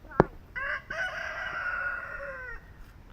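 A rooster crows once, close and loud, holding a long harmonic call for about two seconds right after a sharp click.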